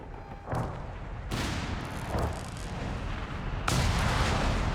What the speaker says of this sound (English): here comes another walking Stuka